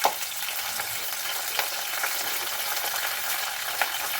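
Curry leaves sizzle in a little hot oil in a wok, a steady dense frying hiss with occasional sharper crackles and pops, close and continuous, with no talking.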